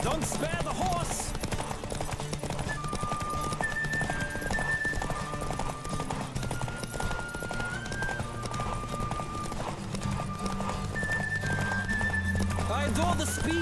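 Hooves clip-clop rapidly as a horse gallops in The Witcher 3, with a neigh breaking through, all under game music and bits of speech at a moderate level.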